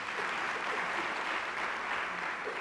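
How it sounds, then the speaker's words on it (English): Audience applause at a university graduation ceremony, an even, continuous wash of many hands clapping in a large hall, moderately distant and steady for its whole length with no talking. "Let us give them a round of applause."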